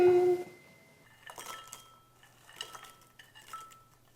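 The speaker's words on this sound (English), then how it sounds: "Listen to these croutons." Crispy bread croutons rattle and clink in a bag or pan after a brief louder sound at the start, making scattered light crunchy bursts close by with no talking.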